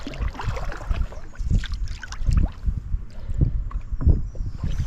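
A canoe is paddled on a lake near Elliott Lake, with soft rhythmic splashes and water swishes repeating about once a second against light wind rumble.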